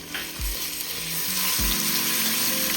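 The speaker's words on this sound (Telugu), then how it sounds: "అది వేగుతూ ఉంటుంది కదండి." Ginger garlic paste frying with onions in a pan for village-style Kanuma chicken biryani, a steady loud sizzle with a few low clunks of stirring.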